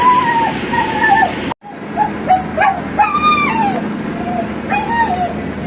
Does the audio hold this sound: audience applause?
no